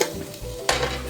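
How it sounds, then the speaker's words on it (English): Onions sizzle in a hot pan with a steady crackling hiss, broken by a brief stir or clatter partway through, close up and alone. "And you can hear that the onions are nice and sizzling."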